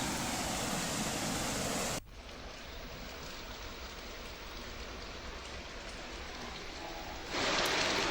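Heavy rain falls steadily during river flooding, a dense, loud hiss of water pouring across surfaces, continuous without pause and shifting in tone partway through.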